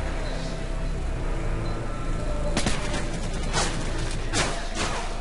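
Several sharp gunshot cracks ring out in the second half, a few seconds apart, over a steady dense background mix with a voice murmuring underneath, in Call of Duty: Modern Warfare 3 on PC.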